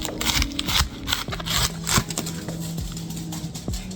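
A knife chopping through a cabbage after its stalk has been cut away, with a run of sharp, uneven chops and crunches close by on a board, no voices heard.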